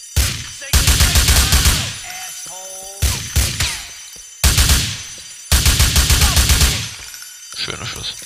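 Rapid bursts of loud GTA IV gunfire at night in a museum come in several volleys separated by short pauses, each burst a quick string of sharp shots.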